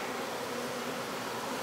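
Honey bees swarming around a hive box outdoors, a continuous close buzzing hum from many insects, steady in level, with no voices.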